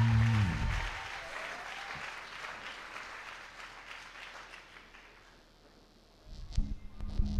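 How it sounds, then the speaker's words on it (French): Church congregation clapping for Jesus: a dense wash of applause, strongest and loudest at the very start, then thinning to a steady softer patter before swelling again near the end, with a brief voice at the opening. "Acclamez très fort le Seigneur Jésus."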